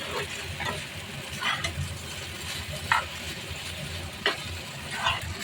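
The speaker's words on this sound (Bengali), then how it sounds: "বাটারটা একটু গলিয়ে নিচ্ছি, একটু নেড়ে চেড়ে দিচ্ছি।" Butter melting and sizzling in a pan while food is stirred, with scrapes and light clinks recurring every second or so over a steady low frying hiss; no talking.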